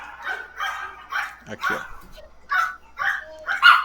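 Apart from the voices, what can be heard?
dogs barking over an unmuted microphone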